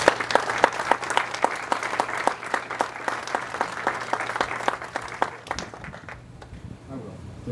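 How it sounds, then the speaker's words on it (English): Audience applause at a Wounded Warrior Week veterans event, a steady wash of clapping from a crowd with crisp rhythmic claps close by, fading out near the end as a voice begins speaking. "Let's have a round of applause for Bill Mosca Jr"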